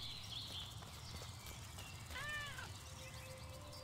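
A small cat in the video game Little Misfortune gives a brief meow, rising and falling once and quiet under a low game background of music and ambience.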